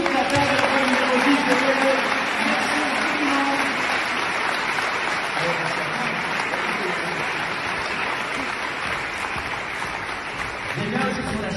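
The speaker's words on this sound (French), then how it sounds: "Nous en avons un applaudissement pour lui et pour toute la table de la numéro 10 de Belleuil." An audience applauds a table at a Beloeil tour stop, steady dense clapping lasting the full stretch, loud and close, with crowd voices mixed underneath.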